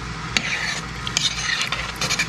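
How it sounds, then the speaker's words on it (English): A spoon stirs cheese and half and half into a pot of broccoli cheese soup, giving a soft, steady scraping and swishing with a few light clinks against the pot, close by and alone. "we'll stir this in and then put the lid back on"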